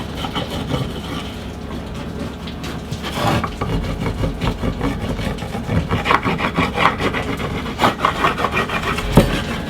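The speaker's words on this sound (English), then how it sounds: "We'll just use one of the Tealights, tea candles, and we'll just rub it on." Wax tea light candle rubbed along the edges and bottom of a wooden wall-art piece, giving a steady close scraping and rubbing texture with irregular strokes throughout.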